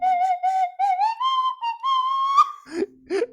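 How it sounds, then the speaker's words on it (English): A slide whistle plays a short melody, the Omega theme, of sliding, held notes rising gradually, followed by a few quick squeaky swoops. "you're playing his theme on slide whistle"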